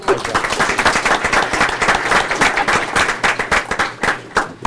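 An audience at a Brawley city council meeting claps, a dense run of overlapping hand claps, loud and close, lasting several seconds before thinning out at the end.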